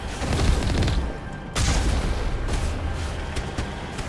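Heavy turret gunfire in Mass Effect, a loud continuous barrage of booming shots with a sharp blast partway through, then a quick series of distinct reports, close and dense.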